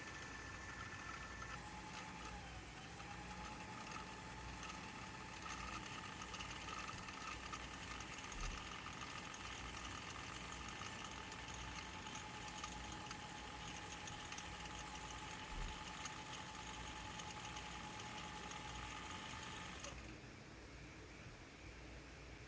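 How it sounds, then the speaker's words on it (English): An Eaton's Viking 788P vintage sewing machine winds a bobbin with a steady, continuous motor whir and faint high whine, running evenly for about twenty seconds before cutting off. "Press the foot pedal to start winding the bobbin."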